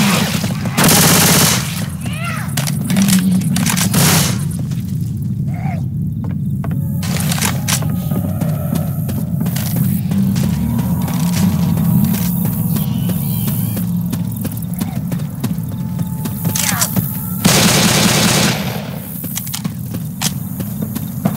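Dense, loud gunfire in Left 4 Dead 2 on The Parish finale, rapid automatic bursts and sharp shots layered over in-game voices and footsteps throughout.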